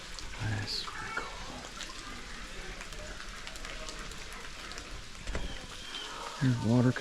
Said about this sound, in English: There's water coming off over there, like another waterfall.